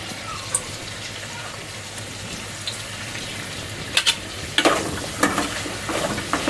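Chickpeas and curry leaves frying in oil in a pan give a steady soft sizzle, then sharper crackling pops and spatters toward the end, close by.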